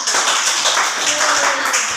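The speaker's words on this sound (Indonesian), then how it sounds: "tepuk tangan untuk kelompok 1" Classmates clap for group 1 during an Indonesian classroom group presentation, a dense patter of hands filling two seconds, with a faint voice underneath.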